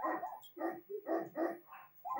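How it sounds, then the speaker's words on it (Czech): Several dogs bark at night in a quick series of loud, clipped barks with short gaps, some overlapping, heard close and without talk. "to je několik psů."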